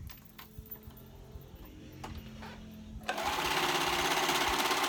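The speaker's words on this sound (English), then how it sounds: "So I'm gonna sew that together." A sewing machine stitching a fleece hooded blanket: faint handling and taps at first, then the motor starts and runs in a loud, steady, rapid whir to the end.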